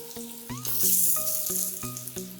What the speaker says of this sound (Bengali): আমি এখন এতে তেজপাতা এবং দারচিনি দিয়ে দিব।